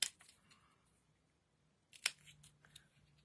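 Scissors snip through paper while trimming a piece for scrapbooking: a quick burst of crisp cuts at the start, a pause, then another sharp snip with a few lighter clicks, close and quiet.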